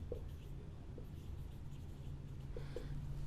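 A lecturer writes notes by hand during a lesson, with soft, scratchy pen or chalk strokes in short bursts over a steady low room hum, and no talking.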